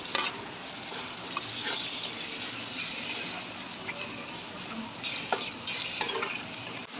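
Finely chopped tomato being stirred into spiced masala frying in a pan with cumin powder, a continuous sizzle broken by scraping and clinking spoon strokes at irregular intervals, close by.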